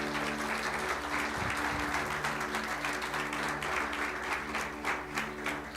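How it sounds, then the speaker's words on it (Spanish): A church congregation applauds, a sustained, even wash of many hands clapping at steady volume for nearly six seconds, with a low hum of instruments underneath. "Dale un aplauso al Señor."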